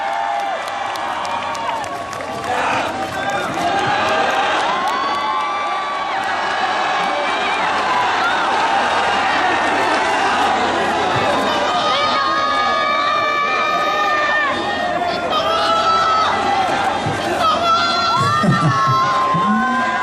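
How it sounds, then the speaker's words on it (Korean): Crowd at a tomato festival music event cheering, shouting and clapping loudly and continuously, with high excited voices and an announcer speaking over the noise. "박수 부탁드리겠습니다."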